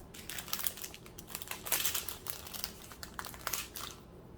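Crisp crinkling and snipping of a thin plastic bag cut with scissors close up, a quick irregular run of rustles and cuts with no talking.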